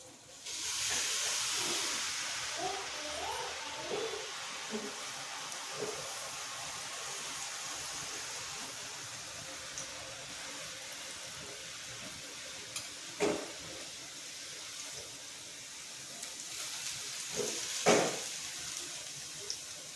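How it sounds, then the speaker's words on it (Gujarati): Boondi batter dropping through a perforated ladle into medium-hot oil for motichoor ladoo, a continuous hissing sizzle with occasional sharper pops and clinks. "તો હવે આપણે અહીંયા ખીરું ને આપણે અહીંયા જારો રાખીને બુંદી પાડી લઈશું।"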